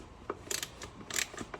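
Bolts being tightened with a T40 Torx bit on a BMW Z4 E85 while refitting the DISA valve: a series of close, faint metallic clicks and ratcheting ticks in short irregular bursts.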